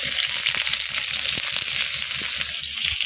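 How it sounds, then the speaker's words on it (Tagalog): Chopped onion and garlic sautéing in hot oil in a pan, a loud, dense, steady sizzle up close with faint scraping stirs underneath, no talking. "Ilalagay na natin ang sibuyas at bawang."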